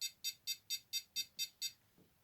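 Arduino distance sensor buzzer beeping rapidly, eight evenly spaced short high-pitched beeps in quick succession, clear and alone, then stopping.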